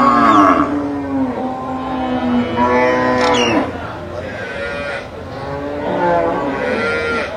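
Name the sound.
cattle mooing at a cattle market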